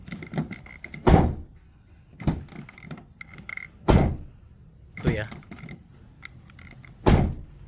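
Doors of a Toyota Yaris Cross Hybrid slammed shut several times, each a sharp thunk with a thin, rattly ring, spaced about a second apart, with someone talking briefly between the slams.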